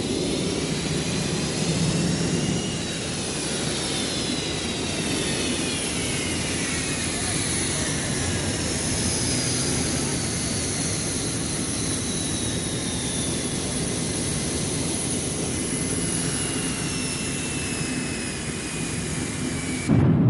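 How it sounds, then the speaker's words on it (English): Twin Pratt & Whitney F-100 turbofan engines on a McDonnell F-15 Eagle run up toward take-off thrust, a steady, loud roaring rush with a rising whine throughout, heard without a break. "the massive Pratt & Whitney F-100 turbofan engines, part of the secret of the Eagle's phenomenal performance, are brought up to take-off thrust"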